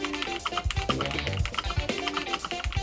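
Rapid, dense clicking from typing on a homemade LEGO computer keyboard, with keystrokes close up and continuous with no talk.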